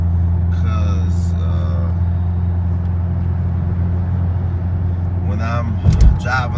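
A Dodge Charger Scat Pack cruises on cruise control with a steady, low engine and road drone. A brief louder swell comes near the end.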